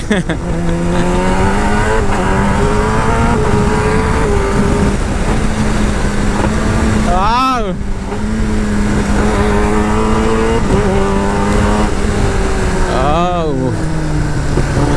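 A Kawasaki ZX-10R running with GP shift, its engine humming steadily before sharp revs rise and fall twice, loud and close, with someone talking over it.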